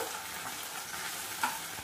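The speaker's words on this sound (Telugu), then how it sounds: "1 టీ స్పూన్ అల్లం వెల్లుల్లి పేస్ట్ వేసుకోండి. ఇది కూడా కొంచెం పచ్చి వాసన పోయేదాకా వేసుకుందాం." Ginger garlic paste fries in oil in a pan for a masala chickpea curry, a steady crackling hiss with a brief stir or clink near the end, no voices.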